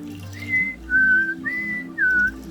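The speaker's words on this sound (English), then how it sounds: "Okay, terrible whistling." Person whistling a short tune of four sustained notes, close and clear, with a faint low hum underneath.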